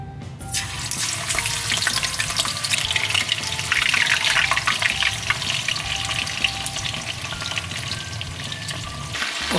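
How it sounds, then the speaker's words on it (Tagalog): Blue cod fish frying in a pan, a loud, dense, continuous sizzle and crackle of hot oil close up, with no talking. "Now is ipiprito ko na yung ating blue codfish."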